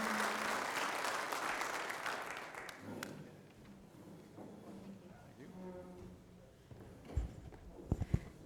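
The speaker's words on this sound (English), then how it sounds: "Let's all give a round of applause for Emily." At a mining health and safety conference, the audience applauds a speaker with a full, fairly loud burst of clapping for about three seconds, which fades into quieter room sounds, a voice and a few bumps near the microphone.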